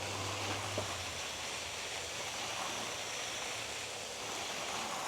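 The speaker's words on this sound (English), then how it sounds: "I'm gonna get down underneath and spray the roots" Hose spray of iron concentrate mixed with water directed at hydrangea roots outdoors, a steady broadband hiss and rush of water, close and continuous with no talking.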